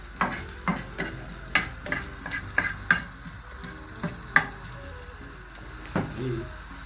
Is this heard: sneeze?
no